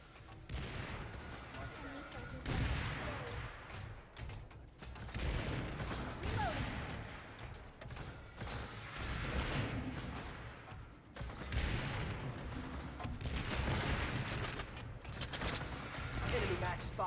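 Rapid gunfire in the PlanetSide video game, aimed at an enemy MAX armored suit in the VR training room, comes as dense, repeated bursts of shots that rise and fall in waves and continue nearly throughout.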